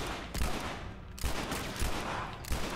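Gunfire in the post-apocalyptic video game The Last of Us, three or four heavy booming shots spaced about a second apart over a constant noisy background.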